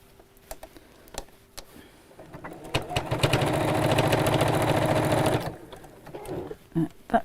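A domestic sewing machine top stitches around the edge of a fabric pouch bag, a rapid steady whirring rattle of several seconds in the middle, with scattered clicks and handling noises before and after.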